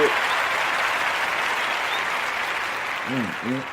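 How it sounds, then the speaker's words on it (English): Audience gives a round of applause, a broad steady wash of clapping for several seconds, fairly loud and even, with a voice breaking in near the end. "y'all get a round of applause"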